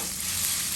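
Ginger, garlic and green chilli paste frying in a pan: a steady, close hissing sizzle with no other sounds.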